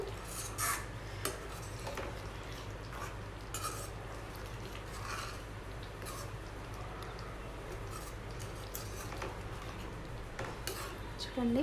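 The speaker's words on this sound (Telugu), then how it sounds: "కస్తూరి మేతి యాడ్ చేసిన తర్వాత నెక్స్ట్ మరొకసారి అంతా బాగా మిక్స్ చేసుకోండి, అంతా కలిసేటట్టు" Paneer butter masala with kasuri methi is stirred in a pan, the spoon clinking and scraping against the metal in steady strokes under a low hum, while a voice speaks briefly.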